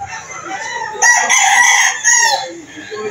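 Rooster crowing at a chicken market in Lipa City, Batangas, a loud nearby crow in two bursts over other fowl sounds and faint background voices.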